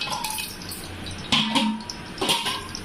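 Whole spices for mutton donne biriyani, including cinnamon sticks, cardamom, bay leaf, star anise, stone flower and marathi moggu, sizzling in hot oil, a close, brief crackle with a few bright spatters and pops.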